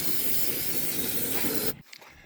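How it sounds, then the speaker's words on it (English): Aerosol parts cleaner and degreaser sprayed in one continuous close, loud hiss during an oil change on a John Deere 4240 tractor, cutting off sharply after under two seconds. "Now, we're gonna take our favorite parts cleaner."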